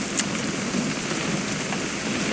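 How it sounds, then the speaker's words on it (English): Steady rain falls in the video game What Remains of Edith Finch, a soft continuous hiss of drops with no voices and no change in level. "It's gonna rain the whole weekend,"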